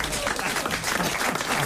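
Audience applause at a French comedy joke-telling show, a short dense burst of clapping from a crowd with voices mixed in.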